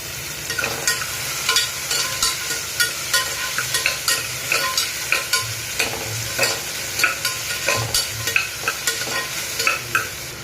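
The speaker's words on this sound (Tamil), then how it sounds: "அரிஞ்சு வச்சுருக்க வெண்டைக்காயும் இதில் போட்டு நல்லா வதக்கிக்கலாம்" Chopped okra fries and sizzles steadily in a pan while a spoon stirs it, with frequent scraping knocks in an uneven rhythm, close and fairly loud, no talking.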